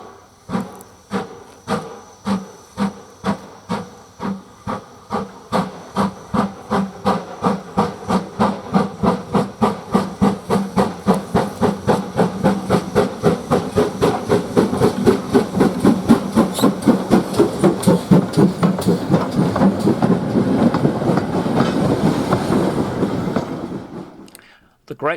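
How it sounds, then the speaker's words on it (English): A GWR Prairie tank steam locomotive, number 4555, climbs a gradient hauling a short milk train, its loud exhaust chuffs beating in a rapid, steady rhythm that gradually quickens and swells before cutting off. "4555 begins the climb to Cranmore with her short milk train"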